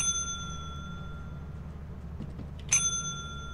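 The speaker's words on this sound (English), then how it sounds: "And oh, ding the bell." A single bright bell ding rings out in the video game Lethal Company, sharp and ringing over a steady hum of game ambience, with no voices.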